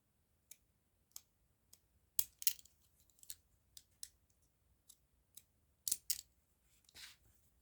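Sharp snips of decorative-edge scissors cut through paper one at a time at an uneven pace, close and fairly quiet, with a few quick double cuts.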